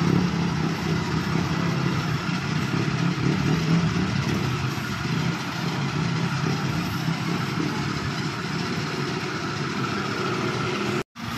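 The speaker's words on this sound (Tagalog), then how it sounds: "Ayan yung motor, oh." A motorcycle engine runs steadily in flood water on a street left by Typhoon Carina, a continuous close rumble mixed with broad wash and spray noise for the whole stretch, with no talking.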